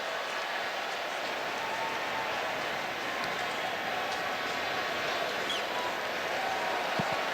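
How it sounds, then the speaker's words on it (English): Broad roar of Sounders supporters cheering in a stadium during a match against Tottenham Hotspur, a steady distant crowd wash that fills the whole stretch. "Plenty for the Sounders supporters to cheer here today."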